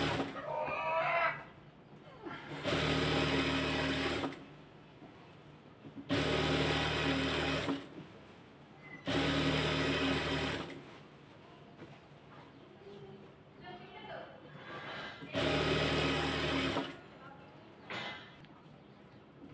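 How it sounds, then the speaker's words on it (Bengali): A sewing machine runs in four bursts of a few seconds each, double-stitching fabric for a stool cover, whirring loudly and close, with quieter pauses between runs where chickens cluck faintly in the background. "এখন এটাতে একটু ডবল করে সেলাই দিতে হবে যেন এটা ছিঁড়ে না যায়"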